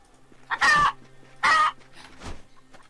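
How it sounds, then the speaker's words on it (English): Chicken clucks from the survival video game The Black Death, three loud squawking calls in quick succession with short pauses between them. "Chickens have just been reintroduced to the game, by the way."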